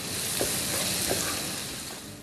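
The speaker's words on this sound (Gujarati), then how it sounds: "આ બધું નાખ્યા પછી આપણે એક વખત પાછું એને હલાવી લઈશું" Schezwan sauce, sugar and soy sauce stirred in a hot pan give a steady, close sizzle and frying hiss, with a couple of soft spatula scrapes through it and no voices.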